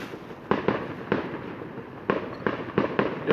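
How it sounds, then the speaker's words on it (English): Fireworks explode outdoors at a Halloween night event by abbey ruins, a series of sharp, loud bangs in uneven bursts, some doubled, over a steady crackling background. "Yeah, right, stop now, fireworks."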